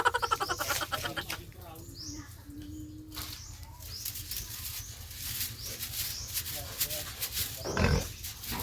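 A pig being raised for fattening squeals and grunts in distress amid farmyard noise, with birds fluttering and people talking nearby.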